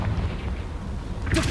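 A Confringo fire spell in Hogwarts Legacy bursts as a short, bright blast near the end, over a steady, busy game backdrop.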